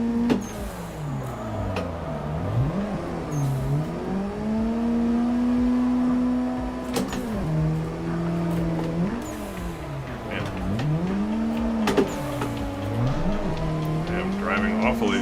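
Race car engine in the Assetto Corsa driving game, revving up and down in repeated swells with tire squeal during circuit drifting, loud and continuous throughout.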